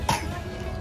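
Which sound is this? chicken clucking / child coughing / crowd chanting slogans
child coughing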